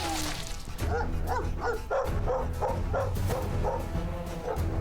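Dogs in the video game Stoneshard bark in a steady run of repeated woofs and yips over constant low background game ambience, with no talk.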